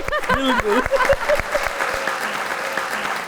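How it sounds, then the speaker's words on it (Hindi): Applause swells on a studio show set while a voice speaks over the opening moments, then the clapping carries on alone as a steady, moderately loud patter. "बहुत सारी तालियां मेरे अपने लिए।"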